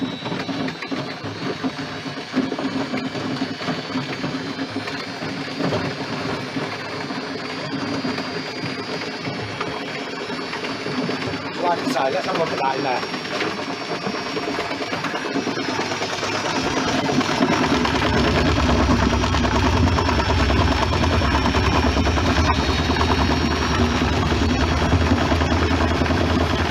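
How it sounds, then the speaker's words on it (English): A homemade apple scratter for cider making, driven by a washing machine motor, whirs and grinds continuously and loudly nearby. The rumble grows heavier partway through, and someone speaks briefly over it. "All it is a washing machine motor, as you can see there."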